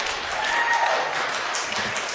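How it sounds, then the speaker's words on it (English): Audience applause fills a committee hearing room, a steady burst of many hands clapping that carries evenly from start to end. "please refrain from clapping"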